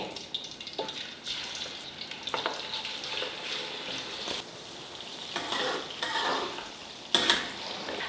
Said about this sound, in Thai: ถ้าน้ำมันเดือดแบบนี้ก็คือใช้ได้แล้วค่ะ เราจะใส่หมูลงไปเลย